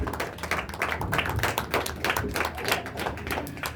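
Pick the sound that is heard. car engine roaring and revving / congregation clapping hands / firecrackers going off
congregation clapping hands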